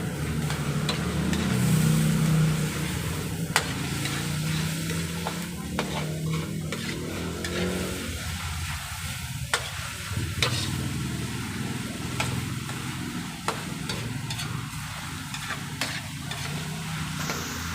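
Pork chopsuey being stirred and fried in a hot pan: continuous sizzle with scraping stir strokes and occasional clanks of utensil on metal, steady and close, with no talking.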